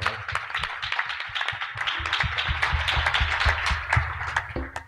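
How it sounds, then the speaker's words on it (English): Audience clapping for a mridanga player at a kirtan jam, a dense, steady patter of many hands that fills the room over low rhythmic music for about five seconds. "Please give him a round of applause."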